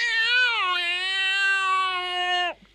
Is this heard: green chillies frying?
no